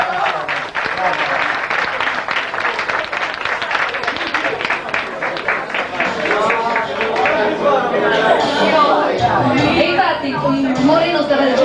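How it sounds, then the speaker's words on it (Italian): Applause of encouragement from a concert audience, clapping mixed with crowd chatter and a voice talking over it, loud and sustained throughout. "Facciamo un bel applauso di incoraggiamento per la nostra."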